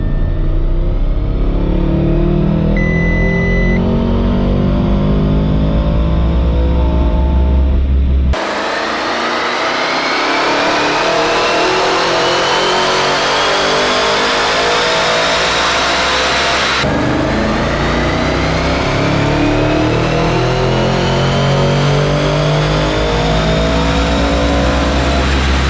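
An Audi RS6 Avant with a Unitronic Stage 1 tune on 91 octane E20 fuel revs hard on a dyno through three loud back-to-back runs, its engine note sweeping up through the gears with roaring exhaust and no talking.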